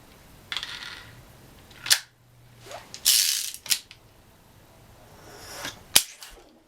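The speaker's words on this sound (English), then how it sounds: "It's a cap gun." A toy cap gun from a 10-inch Rick Grimes action figure gives a few sharp, close snapping cracks spaced seconds apart, with a burst of rustling handling noise in between.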